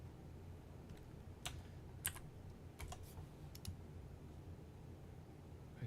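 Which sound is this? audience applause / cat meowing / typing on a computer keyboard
typing on a computer keyboard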